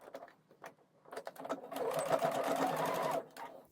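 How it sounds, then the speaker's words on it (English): A sewing machine stitches a channel on a handmade bikini, running in a few short bursts before settling into a steady whir of about a second and a half, close and fairly quiet. "So you just need to then sew on the other side of the channel so that it secures it to the back band and the centre front."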